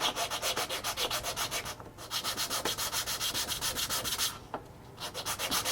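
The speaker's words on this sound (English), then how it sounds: "We'll take the sanding block and we'll just carefully take some off both ends." Sanding block rubbed back and forth over the ends of an HO scale model freight depot part, a steady close rhythmic scraping of even strokes with two brief pauses.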